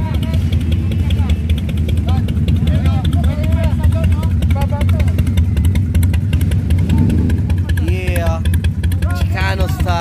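Several motorcycles idle and rumble loudly nearby at a night biker party in the Philippines, a deep throbbing engine drone with occasional revs, while people talk over it throughout.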